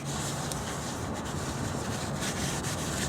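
A rag rubs and wipes away leftover residue during an automatic transmission fluid change on a Nissan Maxima or Infiniti, a steady close scrubbing hiss with brief louder strokes and no talking.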